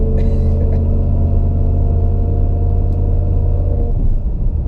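A 600+ horsepower turbocharged Camaro accelerates hard on the road, its engine a loud, deep, steady rumbling drone heard from inside the car, easing off near the end.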